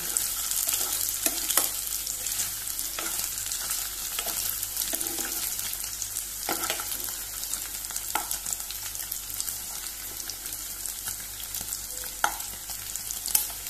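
Paneer frying in a pan for Goan-style masala paneer, a steady hissing sizzle throughout with occasional clicks and scrapes of stirring, moderately quiet and close.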